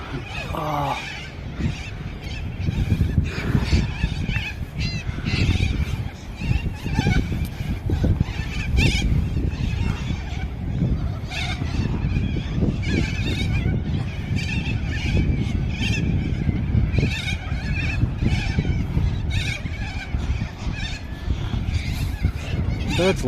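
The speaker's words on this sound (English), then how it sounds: "Lots of birds" Geese honk repeatedly near the water at Carrington, Newcastle, a steady chorus of calls over a constant low rumble of outdoor background noise.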